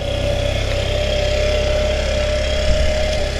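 A 1987 Honda Elite 80 scooter with a small engine settles into a steady idle, a close, even buzzing putter that holds constant with a faint blip near the end, no talking.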